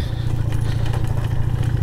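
A motorcycle bounces along a rough, unpaved mountain road between Shandur and Phandar Valley, its engine thrumming low and loud while the chassis and suspension rattle and clatter over bumps.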